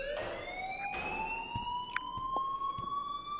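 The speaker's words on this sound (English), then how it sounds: "please turn off that alarm since that's your job" An alarm in the video game Life is Strange, a rising wailing siren-like tone with a few faint clicks and knocks around it.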